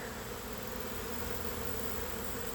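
A honeybee swarm buzzes in a dense, continuous drone, loud and close, with no pauses.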